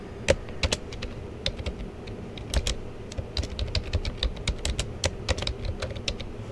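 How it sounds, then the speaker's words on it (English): Steady typing on a computer keyboard, a close run of crisp, uneven key clicks that speeds into a busy patter, with no voices over it. "I'm simply going to type baby feeding chart"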